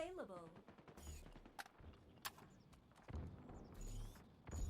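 Gunfire in a Halo Slayer ranked match: sharp shots and short bursts scattered over several seconds, mixed with game effects and a voice talking over it.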